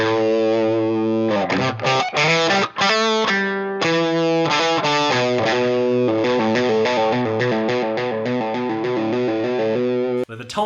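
Electric guitar played through a Boss DS-1 distortion pedal with the drive turned up, loud, buzzy and saturated chords and sustained notes ringing close, with a few brief breaks between phrases.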